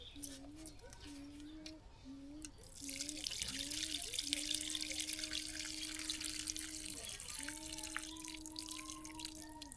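Rice and lentils are rinsed under a running kitchen tap, with steady water pouring and splashing close by while a voice talks over it.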